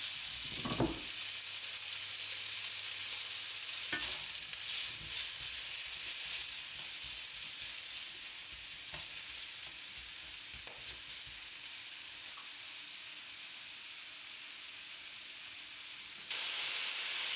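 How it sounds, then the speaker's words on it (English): Sausage sears in a hot frying pan, a steady close sizzle and hiss with occasional stirring knocks and scrapes, continuing without talk. "Searing the sausage first is key because it releases its juices"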